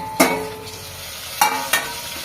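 Tomato pieces fry lightly in a pan: a soft steady sizzle runs underneath while three sharp utensil clinks or scrapes cut through, one early and two close together near the end.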